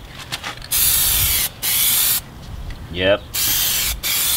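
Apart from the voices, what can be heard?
spraying a coat onto a car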